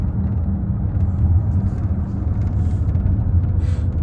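A driverless Waymo car rolls through a Phoenix neighborhood, heard from inside the cabin as a steady low road rumble and engine hum with faint tire noise, continuous and fairly loud throughout.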